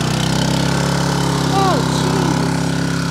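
Honda HR214 lawn mower engine running steadily just after a cold start, a loud, constant droning idle with a few faint squeaks and talk over it.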